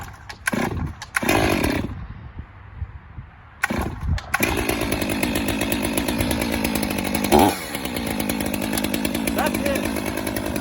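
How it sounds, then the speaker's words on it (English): Chainsaw with the chain brake off, revving briefly in rough bursts, stopping, then restarting and settling into a loud, steady close idle; a voice speaks briefly near the start. "I'm going to take the chain brake off to let the chain run a couple revolutions."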